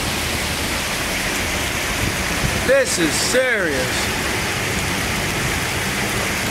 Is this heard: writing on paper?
no